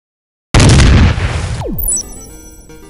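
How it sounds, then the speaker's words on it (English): A single loud bomb blast bursts in abruptly after brief silence, a dense roaring boom that decays into a rumbling tail with a falling whistle and ringing debris tones. "A poorly edited bomb joke."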